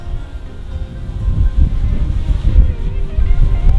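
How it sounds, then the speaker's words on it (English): Strong wind outdoors buffets the microphone in a steady, loud low rumble that swells and gusts throughout, with no voices. "Wind is really strong."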